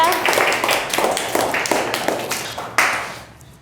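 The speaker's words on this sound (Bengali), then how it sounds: "ইব্রাহিমের জন্য একটু জোরে হাতে তালি দিয়ে আমরা" Schoolchildren in a classroom clap together for a classmate, a dense run of quick, rhythmic claps that carries on throughout before cutting off near the end, with voices mixed in.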